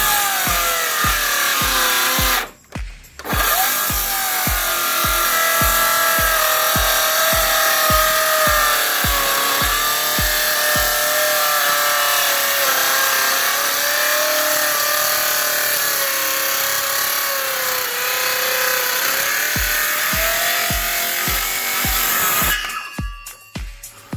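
A power saw cuts wood for a fish tank rack, a loud continuous whine with a rapid rhythmic chatter running underneath, close by and broken by a brief pause near the start and a stop near the end.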